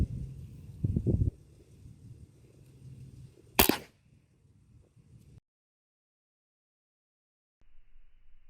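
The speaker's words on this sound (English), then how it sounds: "It is now loaded. I'm going to shoot it." A Walther 1250 Dominator PCP air rifle fires a single sharp, close crack outdoors, preceded by faint handling rustle and followed by quiet.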